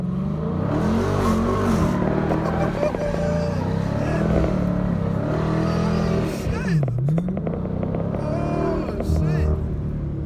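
A Dodge Scat Pack revs hard and steadily in a burnout with traction control off, roaring and whining up and down with a grinding texture of spinning tires, loud and close, with voices mixed in.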